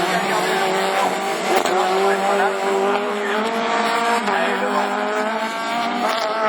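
Division 4 rallycross race cars at the 2013 French championship in Lessay brake hard, their engines roaring loudly and steadily with shifting revs and a hint of tyre scrub.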